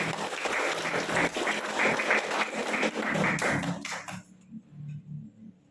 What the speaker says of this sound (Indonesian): Oke, kasih tepuk tangan untuk Taka.